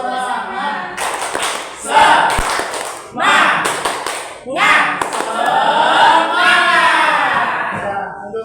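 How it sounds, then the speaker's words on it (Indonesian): A group of teachers does a rhythmic clapping cheer, several short bursts of patterned clapping with pauses in between and voices chanting along, loud and close. "Tepuk semangat."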